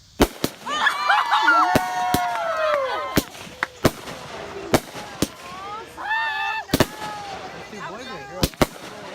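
Fireworks go off at a gender reveal party, a series of about a dozen sharp, loud bangs at irregular intervals while people cheer and talk excitedly in between.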